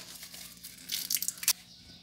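Plastic wrap is unrolled and crinkled while covering onion-tart pastry dough, a few faint crinkles growing into a cluster of sharp, close crackles and a final crisp tear, with no talk.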